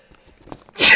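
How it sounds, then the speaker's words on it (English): A single sharp human sneeze bursts out loudly at the very end, close to the microphone, after a near-silent moment with only faint breathy sounds. "I think I'm gonna sneeze."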